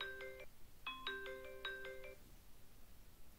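A mobile phone ringtone plays a bright electronic melody of short stacked tones in two quick phrases, then stops, leaving a quiet room background.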